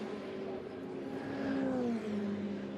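Ferrari Challenge race cars at a Trofeo Pirelli world final, engines droning at a distance with a rising then falling whine as they pass, faint and continuous under ambient track noise.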